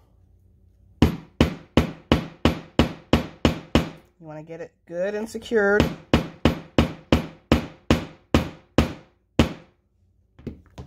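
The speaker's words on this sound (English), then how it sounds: "We're going to hammer it down." A Dritz heavy-duty metal snap being set with a hammer on a post: about a dozen sharp, evenly spaced strikes, a pause for a short spoken remark, then another steady run of blows ending in a couple of final taps.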